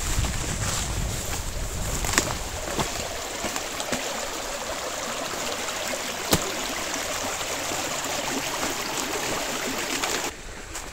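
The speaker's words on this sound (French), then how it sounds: "Là, je longe la rivière." A river in the Nieste valley flows alongside an off-trail hiking route, a steady moderate rush of water with a couple of faint clicks and brief knocks over it.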